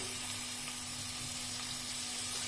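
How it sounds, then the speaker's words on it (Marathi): Four finely chopped onions hit hot oil in a pan, making a steady, even sizzle with a soft hiss and a low hum beneath it, and no talk over it. "तेल गरम झालेलं आहे। यामध्ये 4 बारीक चिरलेले कांदे घालतेय।"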